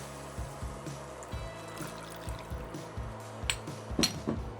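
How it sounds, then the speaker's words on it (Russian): Two cups of milk poured into a pan while cooking a cream sauce, a soft liquid trickle and splash running steadily beneath a low rhythmic background thump, with a few brief clinks near the end. "Выливаем 2 стакана молока."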